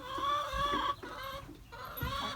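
Chickens cluck nearby in a coop with laying boxes, in several short, throaty bursts, with slight pauses between calls.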